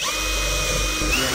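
Power drill boring through pallet wood, a steady high whine with a slight pitch rise near the end, close and loud, with no voices.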